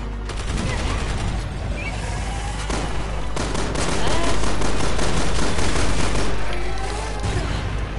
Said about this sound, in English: I'm gonna try my fire grenades